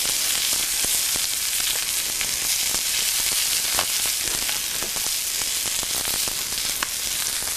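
Brussels sprouts frying in bacon grease in a pan, a steady loud hissing sizzle with scattered crackles and pops throughout.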